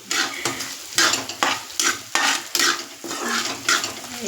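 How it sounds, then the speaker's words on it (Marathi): Potatoes frying in oil in a kadhai for sabudana khichdi, loud close sizzling broken by repeated rhythmic scrapes of a metal spatula against the pan, about one stroke every half second, no talking. "आता इकडं आलू करायसाठी टाकेली."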